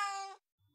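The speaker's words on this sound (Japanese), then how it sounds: "突然猫の鳴き声が聞こえて業者が目を丸くした。" A cat in the game 428: Shibuya Scramble gives a single clear, drawn-out meow that cuts off abruptly, followed by a faint low sound in near silence.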